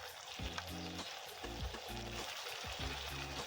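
Chicken masala with chili powder frying in a pan, a steady close sizzle running throughout under a low, repeating mechanical hum.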